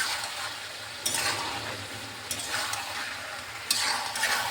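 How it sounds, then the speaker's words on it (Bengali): Tomato and vegetables sizzle steadily in a hot pan, with a spatula scraping and stirring through the frying at intervals, close and fairly loud with no talking. "এবার টমেটোটা একটু এটার সাথে ভাজা ভাজা করে নিচ্ছি"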